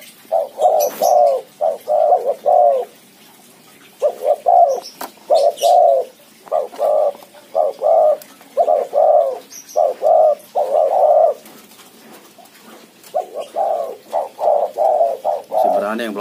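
Spotted doves, a mottled blorok bird and a white one in separate cages, give repeated rhythmic cooing phrases in close, loud bursts with short pauses, plus a few faint chirps behind them.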